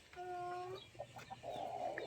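Rhode Island Red chickens cluck and squawk close by, a few short calls and one drawn-out cackle over faint farmyard background.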